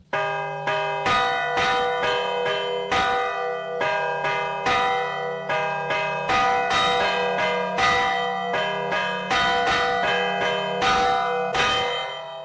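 Church bells ring out loud and close in a steady pealing rhythm, overlapping strikes with long ringing tails throughout, once rung to drive off storm clouds and hail in rural Castile near Ampudia.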